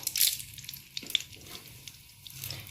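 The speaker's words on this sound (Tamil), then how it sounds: "கடுகு, உளுத்தப்பருப்பு, கடலைப்பருப்பு இது எல்லாத்தையும் போட்டு தாளிச்சுக்கோங்க" Mustard seeds, urad dal and chana dal sizzle in hot sesame oil, a faint crackle with a few sharp pops from the seeds.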